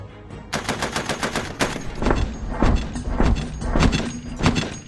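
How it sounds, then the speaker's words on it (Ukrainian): Rapid bursts of gunfire from a remote-controlled robotic weapon in a war zone, sharp cracks in quick clusters with a few single shots between, fairly loud and echoing over open ground. "Постріл! на відстані півтора-два з половиною кілометри."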